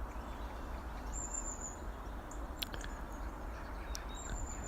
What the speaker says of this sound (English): And you can probably hear the bird sound